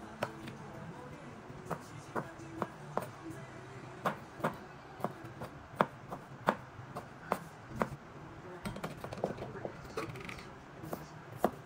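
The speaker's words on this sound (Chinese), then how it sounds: "蒜米和小葱头切碎，" A knife chops garlic and shallots on a cutting board in a steady series of sharp, evenly spaced taps, close and fairly quiet, speeding into quicker bursts toward the end.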